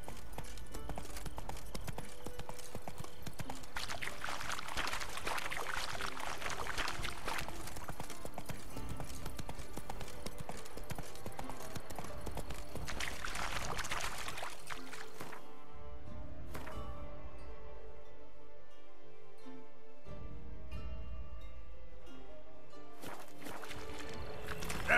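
Hooves of Roach, a horse in The Witcher 3, trotting in a steady clip-clop rhythm under dense ambient game sound, with a brief quieter stretch near the end.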